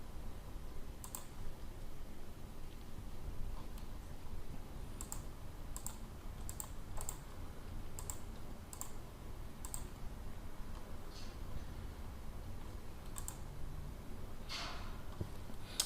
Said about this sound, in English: if we type in anything like internet, let's say internet options in here